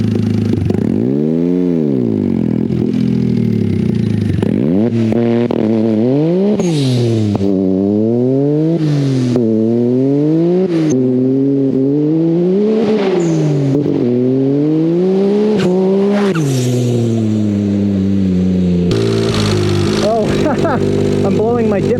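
A loud turbocharged off-road Mirage buggy engine, 300+ hp at 30 psi boost, revs up and down repeatedly close by, with rising and falling pitch and some rattling clatter between bursts.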